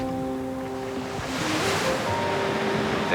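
Ocean surf rolls in along the California coast, a broad continuous wash of breaking waves with rising intensity toward the end, heard under faint tonal music and a bit of wind rumble.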